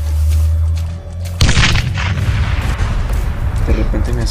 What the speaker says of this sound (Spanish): Explosión.